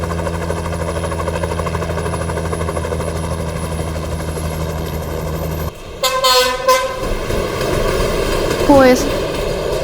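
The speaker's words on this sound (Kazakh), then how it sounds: "Тікұшақ" Cartoon helicopter effect: a steady rotor drone with a pulsing low hum, then a switch to bright horn-like toots and playful rising tones.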